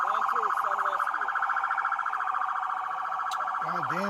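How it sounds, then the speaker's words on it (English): Loud wailing police sirens close by, a high warbling tone holding steady with a second siren sweeping up and down near the end. "turn them fucking sirens off"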